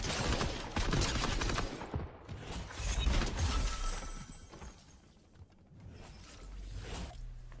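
Video game gunfire from Fortnite weapon combos (SMG with assault rifle or shotgun) comes as rapid bursts and single cracks, fairly quiet, with short pauses between volleys.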